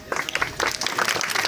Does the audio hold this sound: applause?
yes